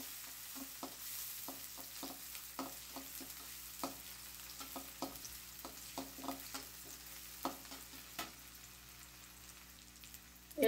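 Bay leaf and spices stirred and fried in oil for a dal dish, a soft steady sizzle broken by irregular light taps and scrapes of stirring, fairly faint and without talk.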